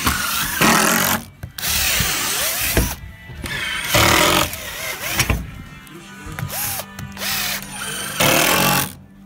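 A power drill whirs in repeated bursts, driving a screw into wood with grinding, straining pulses, close and loud, with brief pauses between runs.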